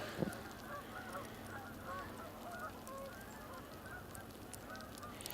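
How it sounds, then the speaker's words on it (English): Faint honking calls from a group of Canada geese, scattered and distant over a steady outdoor hiss. "It sounds like there may be some Canada geese coming in."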